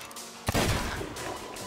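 A single loud gunshot in the Sea of Thieves video game, fired at golden skeletons, bursts sharply after a quiet moment and leaves a ringing, echoing tail with no talking.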